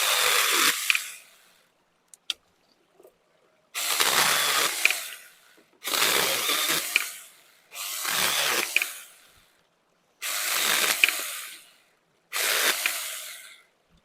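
A Saker 4-inch battery mini chainsaw cuts small limbs outdoors in northern Nova Scotia in six separate bursts of high whining, each lasting about a second with short pauses between them.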